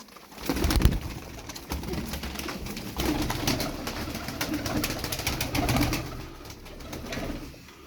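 Several racing tumbler pigeons coo nearby in a steady, overlapping chorus, with occasional rustling and flapping, moderately loud and without speech.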